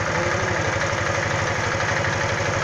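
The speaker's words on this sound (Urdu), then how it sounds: "یہ ایک آواز آتی ہے جو کہ کلچ باکس کے بیرنگ کی آواز ہے" Motorcycle engine idling with the clutch pressed, its clutch box bearing adding a noise to a steady, loud, close mechanical drone with a fast, even rhythm throughout.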